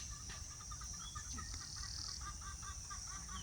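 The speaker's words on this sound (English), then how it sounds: "Sound the rooster chicken crowing" A rooster clucks and crows in an outdoor wildlife setting beside water, fairly faint and distant, with birds chirping in the background and a steady hiss of ambient noise.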